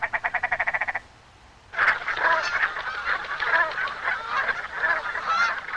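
Arriving spring geese in Alaska's Brooks Range honk in a fast, evenly pulsed series, then after a brief lull a dense, overlapping chorus of honking calls rises and continues, fairly close and loud.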